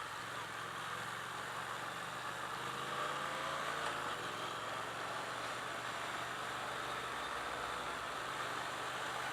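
A 2017 Triumph Thruxton R motorcycle ridden in sport mode, its engine droning steadily with a slight pitch shift partway through, heard against wind noise.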